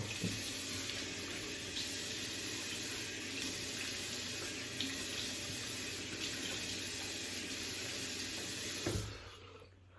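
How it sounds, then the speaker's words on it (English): Tap water runs continuously into a sink while a razor is rinsed, a steady close splashing rush that stops abruptly near the end. "Let's rinse this off"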